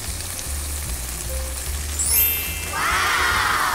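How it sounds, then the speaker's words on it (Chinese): Tofu and roasted pork frying in a wok give a soft, continuous sizzle that swells into a louder, brighter crackle toward the end, with no talking. "煎出嚟咧温柔啲，慢慢嚟咁啊"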